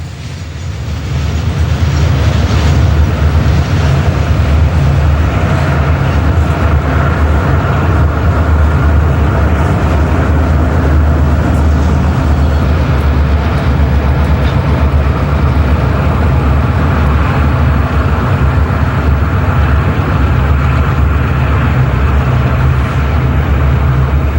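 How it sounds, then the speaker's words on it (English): Conrail GP38-2 diesel locomotives roll past close by, a loud, steady diesel drone with clattering wheels and rail noise that holds unbroken throughout. "Before long, the rear comes into view, and 5 more of the GP38-2s come past our location"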